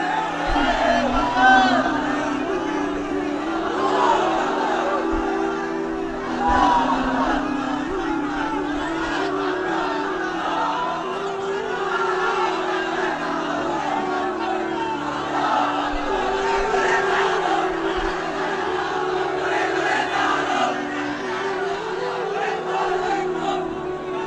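A crowd of men chants a religious slogan, "Islami biplob", in rhythmic unison, voices rising and falling steadily for a long stretch, loud and close, with shouted calls mixed in.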